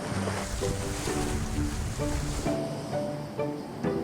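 Waves washing against a rocky seashore, a steady broadband rush of surf with wind, continuous and fairly loud throughout, with faint tonal background sounds mixed in and no talking.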